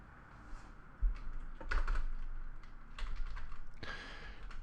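Computer keyboard typing at a desk, heard as irregular bursts of clicking keystrokes, close and moderately loud, with short pauses between runs of keys and no talking.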